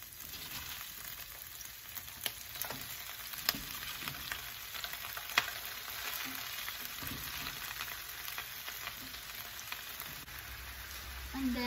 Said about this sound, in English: Just saute it. And then the vegetables.